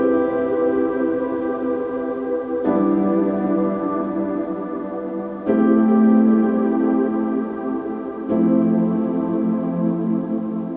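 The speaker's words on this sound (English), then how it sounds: "which is Valhalla Shimmer. It has a granular reverb, really smeared out sound," Dreamy, smeared synth chords drenched in Valhalla Shimmer granular reverb swell continuously, shifting to a new chord roughly every three seconds in a lush, sustained ambient wash with no voices.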